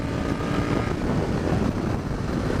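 First-generation Aprilia RSV Tuono motorcycle engine running on the road, a loud continuous low drone mixed with wind rush, steady throughout without talk.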